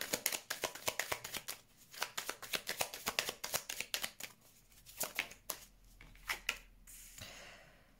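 Lenormand cards are shuffled by hand in rapid, rhythmic riffling flicks, close and crisp, slowing into a few scattered snaps before a soft rustle at the end.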